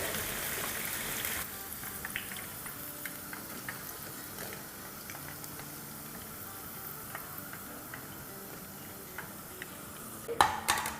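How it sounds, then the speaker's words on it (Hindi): Orange chicken sautés in a pan over a medium flame, giving a steady, moderate sizzle with scattered light ticks and stirring clicks and a sharper clatter near the end, with no voices. "थोड़ा सा सौटे करेंगे अराउंड 1 मिनट के आसपास"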